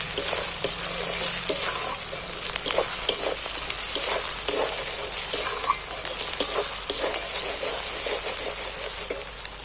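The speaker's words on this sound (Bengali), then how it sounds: "বাদাম বাটাটাও দিয়ে দিচ্ছি" Chicken frying in a pan with almond paste being added, giving a loud, steady sizzle with small stirring knocks throughout, close and continuous.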